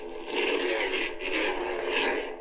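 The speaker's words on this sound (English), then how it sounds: "That is definitely a Cal Kestis hum." An Artsaber lightsaber running a Cal Kestis sound font gives off a steady, close electronic hum that swells and dips in gentle waves over a couple of seconds.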